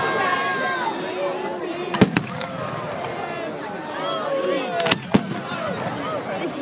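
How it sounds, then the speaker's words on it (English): Bonfire night fireworks go off as a constant crackle and fizz, with two sharp loud bangs standing out, while people talk excitedly close by. "Just the sound of the fireworks, that's all."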